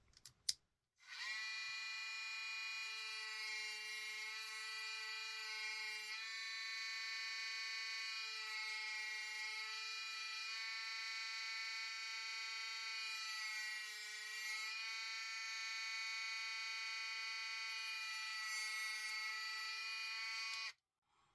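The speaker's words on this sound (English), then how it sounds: "I've got a little Dremel tool here, and I basically use this to carve it" A small Dremel rotary tool carving cork gives a steady high-pitched whine that runs continuously for about twenty seconds with slight pitch wobbles as it bites, starting and stopping abruptly, fairly faint overall.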